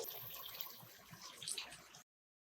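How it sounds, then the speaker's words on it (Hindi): Water is poured into a pan of chicken kofta curry gravy at home, making a soft, continuous splashing trickle for about two seconds before it stops. "अब इसमें पानी शामिल करेंगे।"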